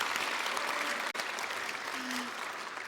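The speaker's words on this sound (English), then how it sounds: "So I think that deserves a round of applause." A convention panel audience at PAX Australia claps steadily and fairly loudly for about three seconds, with a brief cut partway through.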